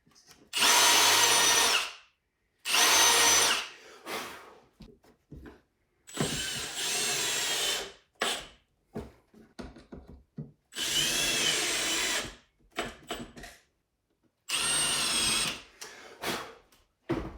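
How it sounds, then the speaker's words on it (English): Power drill countersinking screw holes near the end of a wooden board for a lid handle, with several loud close bursts of whirring a second or two long, separated by quiet pauses and small handling clicks. "These holes are very close to the end of the board, so that's why I'm countersinking these."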